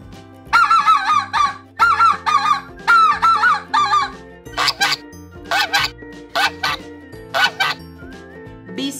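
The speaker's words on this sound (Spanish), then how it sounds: "Ganso." A goose gives a rapid series of loud, nasal honks, first in quick clusters and then as more spaced single calls, close and clear over soft background music.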